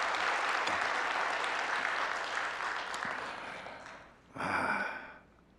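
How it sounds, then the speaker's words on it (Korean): A church congregation at a New Year early-morning service applauds after a special hymn, a broad wash of clapping that fades, then a brief renewed burst before dying away. "우리 박수 한번 해요."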